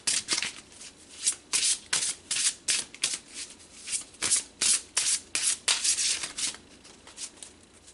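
Tarot cards being shuffled and drawn, a steady run of quick papery riffling bursts repeating close by, with no talking.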